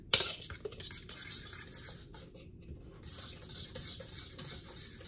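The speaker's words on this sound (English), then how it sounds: "I'm gonna mix that in and I'm gonna top it with some shaved Parmesan" Sliced potatoes for scalloped potatoes being stirred together with Parmesan, cream, salt and pepper in a pot or bowl, giving soft wet scraping and clinks of a utensil against the dish, steady and close, with a brief quieter gap midway.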